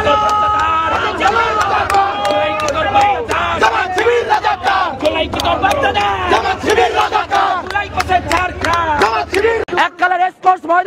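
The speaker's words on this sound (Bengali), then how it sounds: "প্রতিবাদী শিক্ষার্থীরা স্লোগান দেয় এবং জ্বালাময়ী বক্তব্য রাখে ও র্যালি বের করে।" Protesting students chant slogans at a rally, a loud, dense crowd of many voices shouting in rhythmic bursts with babble throughout, ending in a few sharper separate shouts.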